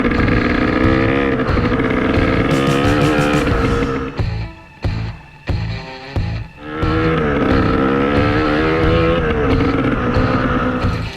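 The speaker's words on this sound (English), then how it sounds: "So I'm going to start the bike, let it warm up for 20-30 seconds or whatever, jump on it and just start riding it" A KTM 300 EXC two-stroke dirt bike engine runs loud and close through a stretch of riding, its pitch climbing and falling with throttle changes, with brief lulls and choppy blips midway before steady revving resumes.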